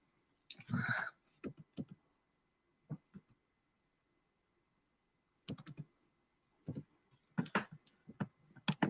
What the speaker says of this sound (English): Yeah, I'm typing that name in there,